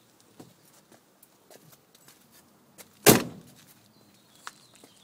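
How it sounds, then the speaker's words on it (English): A car door shutting with one solid, heavy thud midway, close by, amid faint scattered clicks and shuffling before and after. "That's a good ka-chunk on that door."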